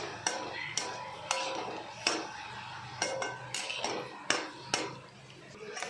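A spoon scraping and clinking against a pan while boiled egg masala is stirred, with sliced boiled eggs being mixed in; sharp metallic taps recur irregularly over a soft background, close and moderately loud, with no talk.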